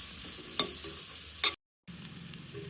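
Onions frying in a pan with about half a teaspoon of salt for a sweet pumpkin stir-fry, a steady close sizzle with scraping stir strokes and a brief gap of silence partway through.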